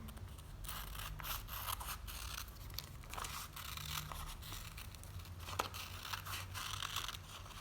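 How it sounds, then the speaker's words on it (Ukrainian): Scissors snip through colored paper while a bee-shaped wing is cut out for a preschool craft: a quiet, steady run of close crisp cuts and paper rustling, with no talking. "Та вирізати ножицями."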